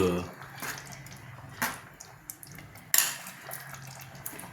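Pieces of fish for Nellore fish curry are dropped one by one into a metal dish, giving several separate wet clinks and thuds with kitchen clatter between them while a voice speaks.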